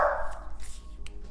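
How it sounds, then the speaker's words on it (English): Dogs bark faintly in the background indoors, a few short, widely spaced yaps over low room hum. "Please ignore my dogs."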